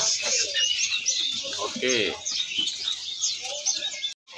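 Songbirds for sale at an Indonesian bird market, including oriental white-eyes, chirp and tweet in a busy overlapping chorus, with a few brief spoken words heard alongside.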